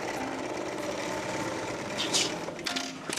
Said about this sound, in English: At first, I gave the sewing machine a try.